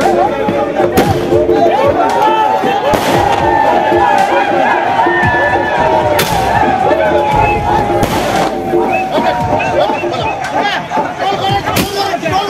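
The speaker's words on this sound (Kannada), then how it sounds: "ಪಟಾಕಿ ಸಿಡಿಸಿ ಟೋಲ್ಗೇಟ್ ವಿರೋಧಿ ಹೋರಾಟಗಾರರ ವಿಜಯೋತ್ಸವ" Firecrackers burst at a toll gate during a night victory celebration by anti-toll protesters, a series of sharp loud bangs scattered through the scene over crowd chatter and a speaking voice.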